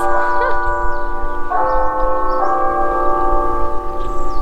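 A church bell in West Valley City, Arizona tolls with long, sustained, ringing tones, struck repeatedly so each new strike swells over the lingering hum of the last.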